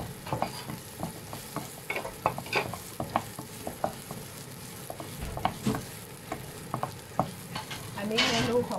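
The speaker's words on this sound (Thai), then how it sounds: "พอน้ำมันเริ่มเดือดเราก็มาใส ่พริกกับกระเทียมค่ะ" Chili and garlic stir-fried in hot oil, with a steady close sizzle broken by repeated scraping stirs of the spatula and a louder hissing burst near the end; no talking.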